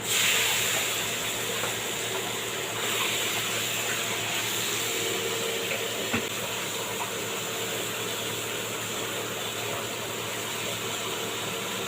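Marinated shrimp masala sizzling in hot oil with fennel seeds in a kadai, a loud steady hiss that holds evenly for several seconds with one faint pop partway through.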